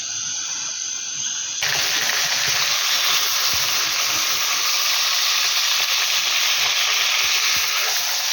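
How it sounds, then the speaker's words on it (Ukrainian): Flour-coated crucian carp sizzle and crackle loudly in a hot pan outdoors, starting abruptly and continuing as a steady, dense frying hiss. "і на гарячу сковороду. Хай смажиться рибка наша."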